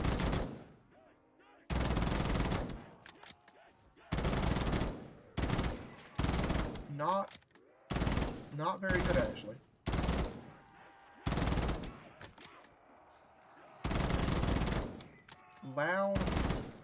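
An M4 rifle fires in Black Ops 3 Zombies in loud, sustained automatic bursts of a second or two, split by short pauses with game effects. Someone talks briefly between bursts.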